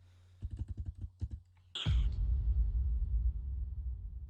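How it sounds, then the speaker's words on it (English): Quick bursts of typing on a computer keyboard, a rapid run of close clicky keystrokes, a short pause, then a few more taps before a loud rumbling low whoosh takes over and sustains to the end. "this companion bot knew what Luke was typing before he even sent the message"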